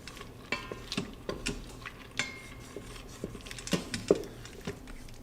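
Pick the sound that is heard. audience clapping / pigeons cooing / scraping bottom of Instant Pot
scraping bottom of Instant Pot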